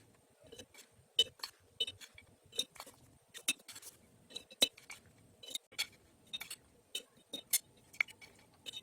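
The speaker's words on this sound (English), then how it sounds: "Now I am pouring this mixture into this glass jar." A chilli and spice pickle mixture goes into a very clean glass jar, with a close, irregular run of light clinks and taps against the glass and no one talking.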